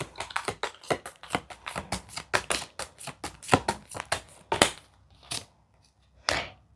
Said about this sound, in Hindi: नाउ मैं एक लव के लिए कार्ड निकालूंगी और फिर एक करियर के लिए